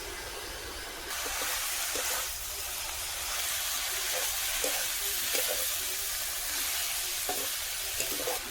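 Banana flower and pork fry together in a pan with salt and turmeric, a steady broad sizzle and hiss close by, with occasional soft stirring knocks.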